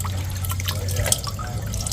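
Ingredients are rinsed clean before boiling, with continuous close splashing, trickling and dripping water and a low steady hum beneath it.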